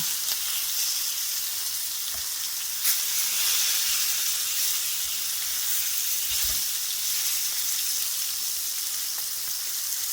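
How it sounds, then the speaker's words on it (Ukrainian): Steady, loud sizzling of perch frying in hot oil over medium heat, a continuous crackling hiss with occasional small pops and clinks, no talking. "І по мірі того, як рибка рум'яниться, перевертаємо її"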